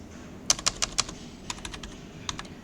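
Keystrokes on a computer keyboard, a close burst of about five crisp clicks followed by a lighter scattered run of taps and one last pair, no voices.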